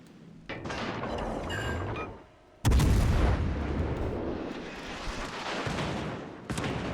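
Naval gunfire in the warship game World of Warships Legends: a dense rumbling barrage, then a sudden heavy boom that decays into rolling echoes, with a sharp report near the end.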